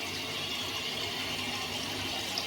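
Tap water runs steadily for a shave in a home bathroom, tepid rather than hot, making a continuous broadband hiss and splash that holds an even level throughout with no talking.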